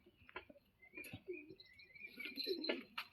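A pair of pigeons kept indoors give faint, soft coos mixed with a few brief chirps, scattered over a few seconds in a quiet room.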